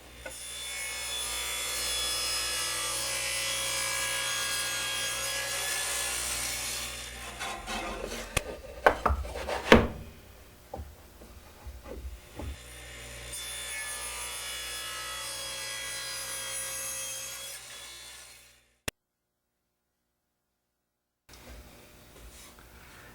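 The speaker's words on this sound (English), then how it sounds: "Now I've mounted the angling tenon jig to the Super Sled to make the cheek cuts." A saw on a Super Sled fitted with an angling tenon jig cuts tenon cheeks in wood. Two long, steady cutting passes are separated by clunks and handling knocks, and a short silence comes near the end.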